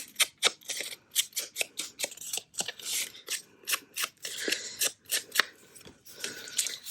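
Scissors snipping through paper by hand, a rapid run of crisp close cuts in an uneven rhythm, quiet and alone.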